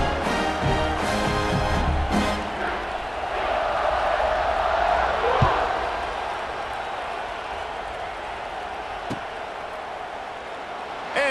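A stadium crowd roars in a steady, continuous wash of cheering at kickoff in EA Sports College Football 26, loud and sustained throughout without a break.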